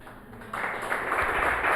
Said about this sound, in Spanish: ¿Usted puede darle un aplauso al Señor?